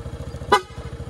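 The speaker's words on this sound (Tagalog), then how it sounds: "Ito yung busina niya, oh." A single short, bright horn beep from a Honda Dio scooter fitted with a Pia horn, over a low idling engine putter, close by.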